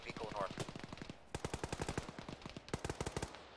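Machine gun fire in a military shooter game comes as sustained rapid bursts of evenly spaced shots, close and punchy, with a brief pause before firing resumes, and a voice briefly mixed in.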